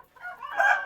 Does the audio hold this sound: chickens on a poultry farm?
yes